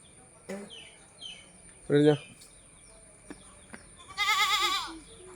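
Dairy goats bleat twice, a short low bleat followed later by a longer, higher quavering one, close by amid quiet background clicks.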